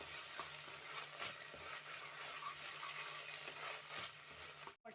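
Schezwan Maggi noodles with Schezwan sauce stirred in a pan, giving a steady, close sizzle with spatula scrapes and soft clinks throughout, ending in a brief dropout.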